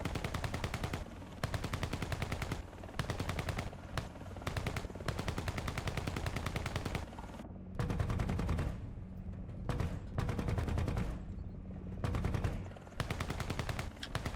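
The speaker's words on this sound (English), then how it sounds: "So here is the gun sound." Rapid bursts of automatic cannon fire from an AH-64E attack helicopter in the War Thunder video game, loud and close, repeating in long volleys with brief gaps between them and no talk.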